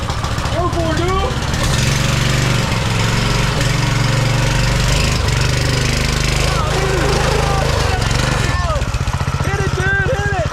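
An old Subaru engine fitted to a go-kart runs loudly up close with a steady throbbing drone, while voices talk and shout over it throughout.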